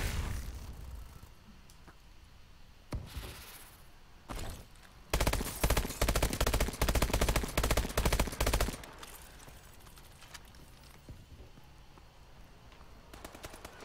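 Automatic gunfire rattles in fast bursts in Call of Duty Advanced Warfare, loud and close for a few seconds, with scattered single thumps and quieter game noise around it; no distinct grenade blast stands out.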